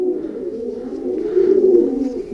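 A blue white-flight pigeon hen cooing close by, soft low throaty coos rising to a fuller, louder swell near the end, with no other sounds.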